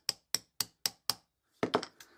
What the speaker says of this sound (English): I'm using just a small hammer, and hopefully I can knock that pin out.